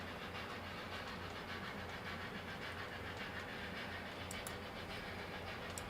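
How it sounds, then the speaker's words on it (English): A train rolls along at a distance with a continuous, fairly faint rumbling roar and a light rhythmic clatter of wheels. No voices break in. "I hear that train coming"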